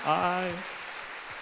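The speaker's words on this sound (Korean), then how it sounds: "하나님 앞에 영광의 박수를 돌립니다." A church congregation at a Christian revival meeting breaks into applause. A voice comes first, then a soft, steady patter of clapping continues alone at moderate distance.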